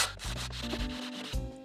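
Rough, rhythmic scraping of an 80-grit sanding block across a wooden guitar fretboard, close up, in steady back-and-forth strokes with brief pauses.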